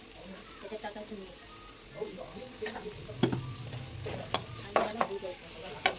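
Onion and garlic sautéing in a pan while being stirred, a soft sizzle with sharp clacks of the spoon against the pan, heard under a woman's quiet speech.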